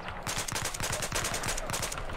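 Close, loud automatic gunfire in Battlefield 4, a fast steady stream of shots lasting about two seconds with an even rhythm after a brief quiet start.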